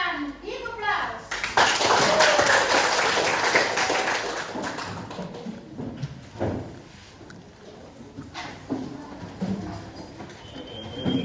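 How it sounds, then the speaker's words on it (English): A high-school class claps in a classroom, a burst of loud applause that swells early and then tapers into scattered claps amid children's chatter. "Give applause."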